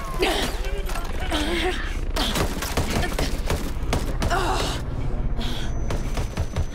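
Audio from Tom Clancy's Ghost Recon Breakpoint with dense rapid gunfire bursts and thuds under breathy vocal sounds, loud and continuous throughout.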